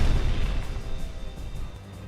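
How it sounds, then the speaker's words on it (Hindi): A bunker buster bomb strikes a 7-meter-thick concrete wall, a deep, sustained rumbling blast that rolls on loudly without a clear break, with no voices. "ये आसमान से गिरता है और फिर सामने रखी 7 मीटर चौड़ी कंक्रीट दीवार पर ये धमाका"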